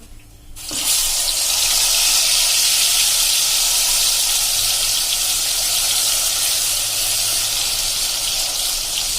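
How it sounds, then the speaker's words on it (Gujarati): Asafoetida and garlic paste hit hot oil in a pan, setting off a loud, steady, hissing sizzle that starts abruptly and holds evenly without letting up. "તો આપણું તેલ પણ જો ગરમ થઈ ગયું છે, એમાં આપણે પિંચ જેટલી હિંગ નાખશું અને આપણે જે આ પેસ્ટ લસણની બનાવી છે એ નાખી દેશું"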